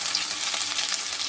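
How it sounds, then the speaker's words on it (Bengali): Okra frying and being stirred in a pan, a steady bright sizzle with soft scraping of the stirring running throughout, close and fairly loud with no talk. "নাড়া মিনিট 2-3 ধরে ভেন্ডিটা ভাজা হচ্ছে"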